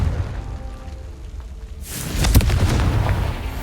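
The Confringo blasting spell in Hogwarts Legacy goes off as a single loud, deep boom with a crackling burst that follows a quiet rumble.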